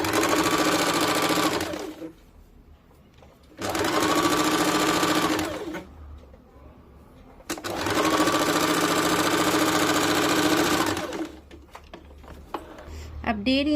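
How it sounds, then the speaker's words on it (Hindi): A sewing machine stitches a katori-cut blouse, its fabric folded on the outer side, in three loud bursts of rapid stitching separated by quiet pauses with faint handling noise. "अब बाहर वाली तरफ को भी फोल्ड करके सिलाई कर देंगे।"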